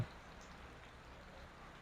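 Steady, soft hiss of heavy rain falling continuously, faint and even throughout with no voices.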